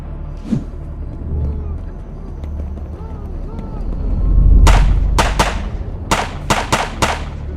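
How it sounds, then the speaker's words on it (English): Artillery shelling along a coastline, a rapid cluster of heavy booms and blasts arriving in quick succession after a stretch of low rumbling, with a voice heard speaking earlier. "The artillery conducted intense shelling of the coastline."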